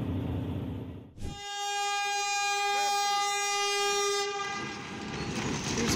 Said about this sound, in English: A train and a truck collided in the Perm territory,